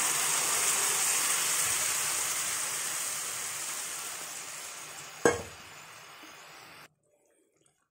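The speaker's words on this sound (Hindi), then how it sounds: "अब इसमें हम टमाटो प्यूरी डाल देंगे" Tomato puree tipped into a hot pan of sautéing pasta sauce base sets off a steady loud sizzle, broken by one sharp clink near the end before the sound cuts out.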